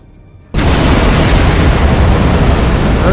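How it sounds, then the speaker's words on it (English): A sudden, very loud explosion bursts in after a moment of near-quiet and roars on as a sustained, broad rumble, close and overwhelming, with no talking. "Those are really big all of a sudden explosions, aren't they?"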